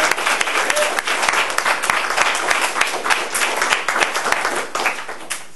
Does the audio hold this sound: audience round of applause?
yes